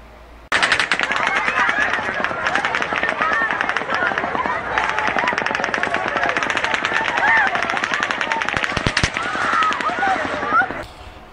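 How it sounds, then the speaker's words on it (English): Rapid automatic rifle fire from the Las Vegas Mandalay Bay shooting rattles on in a long, dense, continuous burst of loud reports, sharp and unbroken for about ten seconds before cutting off. "Here comes the second round of gunfire from the Mandalay Bay."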